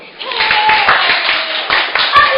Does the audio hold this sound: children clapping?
yes